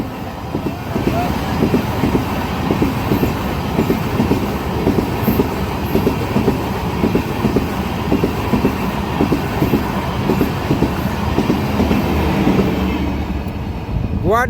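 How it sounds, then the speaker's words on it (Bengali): A long-distance train rushes past close by on a railway at Katlichhara, wheels clattering in a steady, loud rhythm of clickety-clack, with a faint squeal near the end. "ট্রেন গেল গিয়া"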